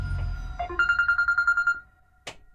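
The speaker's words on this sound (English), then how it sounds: "I'm getting a phone call." A phone rings with an incoming call, a steady warbling electronic trill of about a dozen rapid pulses lasting roughly a second, followed by quiet and a short click, heard over low background rumble during a card game session.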